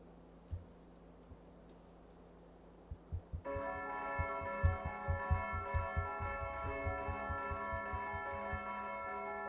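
A bell tapped repeatedly as alarm bells from a fantasy war camp during a tabletop role-play session, a quick run of bright metallic strikes with ringing overtones, close and moderately loud after a quieter start.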